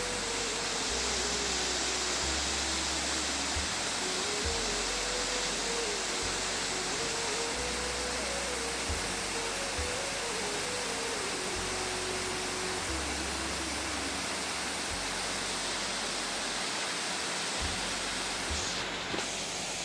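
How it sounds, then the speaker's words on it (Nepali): Heavy rain pours down in a forest near a cardamom field, a dense, steady hiss that stays constant throughout with no gaps or voices. "पानी परेर बिजोग छ, के साह्रो पानी परेको हेर्नु साथीहरू"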